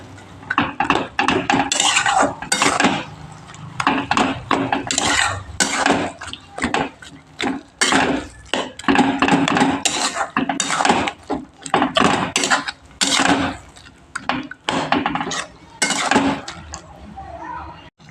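Spoon stirring spinach curry in a pan, repeated clattering scrapes and knocks of utensil against metal in uneven bursts, close and fairly loud, with brief talk in between.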